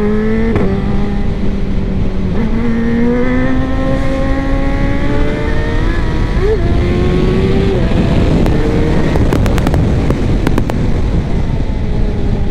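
A motorcycle engine drones loud and steady while riding, its pitch rising and shifting as it accelerates, with wind rush and a few sharp clicks late on.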